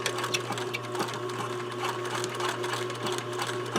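A sewing machine stitches a blouse seam with a quarter-inch seam allowance, guided along the edge of the presser foot. The needle runs in a fast, steady, even rattle close by, with no talking over it.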